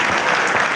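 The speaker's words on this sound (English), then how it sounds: "So clap for Abhishek." Audience at a faith and reason camp talk claps together in a dense, steady burst of applause, close and loud, lasting under a second with no talking over it.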